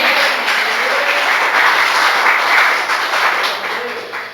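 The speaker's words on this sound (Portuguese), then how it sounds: "Você pode dar mais aplausos ao Senhor Jesus?" A church congregation applauds, a dense, steady wash of clapping from many hands that holds for several seconds before tapering off slightly at the end.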